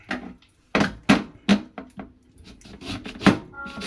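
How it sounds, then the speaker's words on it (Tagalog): A knife cuts through a lemon on a cutting board in several distinct, sharp chopping knocks spaced irregularly, with quiet gaps between them; no voices. "Hiwain natin yung lemon."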